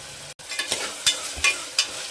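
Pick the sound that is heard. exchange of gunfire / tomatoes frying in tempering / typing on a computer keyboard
tomatoes frying in tempering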